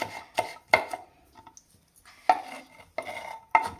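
Knife chopping green chilies on a cutting board for upma, a few sharp, irregular taps close up in a quiet kitchen.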